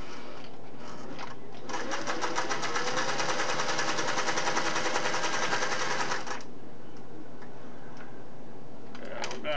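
A Singer Model 401A sewing machine stitches in a steady rapid ticking run for several seconds, starting and stopping cleanly, with quiet handling noise before and after.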